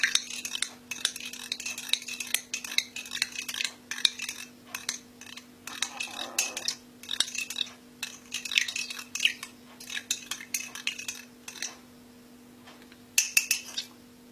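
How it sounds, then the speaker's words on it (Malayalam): Spoon repeatedly clinking and scraping around a glass of milk as paste is stirred in, quick rhythmic bursts with brief pauses, close and fairly quiet over a faint steady hum. "ഇട്ട ശേഷം ശരിക്ക് നമ്മുടെ ഈ പാല് ഇളക്കണം. ശരിക്ക് ഇളക്കുക."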